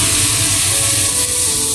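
Oyster sauce, salt and five-spice powder stir-fried in a wok, with water added, giving a loud, steady broadband sizzle and hiss throughout, with no voices.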